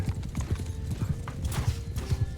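Horses gallop in the video game Mount & Blade II: Bannerlord with quick, rhythmic hoof clip-clops close by. A faint whinny and battle ambience sit underneath.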